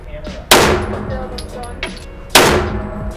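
Handgun fired at a shooting range: two loud, sharp shots about two seconds apart, each with a brief echoing tail, over low background murmur and faint voices.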